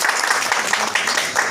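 Dense, steady applause from a crowd welcoming guests at a political gathering, many hands clapping at once, loud and close throughout.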